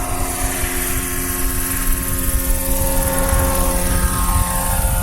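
An 800-size Roban MD-500E scale RC helicopter flies close by, its rotor and turbine-like whine steady and loud with a fluttering blade beat and a high tonal hum running throughout.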